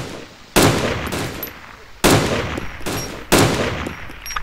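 Three loud, close gunshots from the survival game DayZ, evenly spaced about a second and a half apart, each leaving a long, ringing echo that slowly fades.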